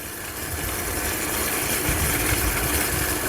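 Engine-like motor whine from a car alternator fitted as a bicycle motor, run at full throttle while climbing a hill, a steady continuous drone with rough vibration that holds without pauses, close to the microphone.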